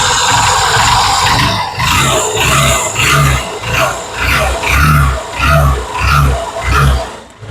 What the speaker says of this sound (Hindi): स्टार्ट करके सुनाऊंगा मैं आप लोग को साउंड कैसा निकल